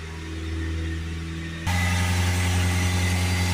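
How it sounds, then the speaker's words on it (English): Ford Transit 2.0 diesel with a blocked DPF and air filter, idling steadily with a humming drone, then abruptly stepping up to a higher, louder held rev around 3000 RPM. "Let's get it up to 3000 RPM"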